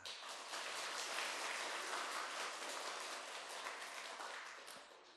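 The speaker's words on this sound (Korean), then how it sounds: "영광의 박수로 함께 했으면 좋겠습니다" A church congregation applauding at a Christmas thanksgiving service, dense sustained clapping from many hands that carries on for several seconds with no talk.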